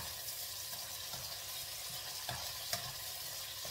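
Garlic frying in a pan as it is stirred, a steady soft sizzle with faint scraping taps from the utensil, fairly quiet and without talk.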